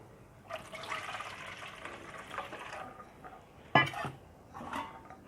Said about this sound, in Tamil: வெங்காயம் குக் ஆகிற அளவு தண்ணி ஊற்றிக்கிறேன்.